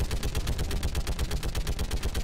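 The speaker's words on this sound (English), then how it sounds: "Haha, machine gun go burr!" Rapid machine gun fire in the Mass Effect 3 video game, a loud, dense, continuous stream of automatic shots rattling without pause for the full stretch, with no voices over it.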